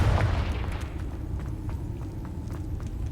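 A Confringo fire spell bursts into a low boom in the Hogwarts Legacy video game, then a rumbling tail fades under scattered game sounds. It sounds moderately loud, and nobody speaks.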